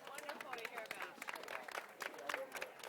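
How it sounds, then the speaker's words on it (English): Audience applause for presenter Chuck Rohr at a Cincinnati energy talk, a faint scattered clapping from a small crowd lasting a few seconds, with murmured chatter mixed in. "Round of applause for Chuck Rohr."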